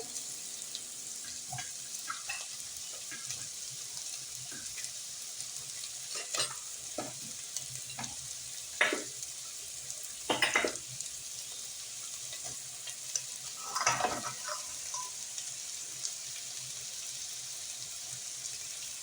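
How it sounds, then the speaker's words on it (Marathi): Vegetables and whole spices frying in a pot for veg biryani, stirred with a steady soft sizzle and occasional louder scrapes of the spoon, close but fairly quiet, with no talking. "ते पण आता घालते मी मिक्स करून घेऊया आता आपण भाज्या घालूया"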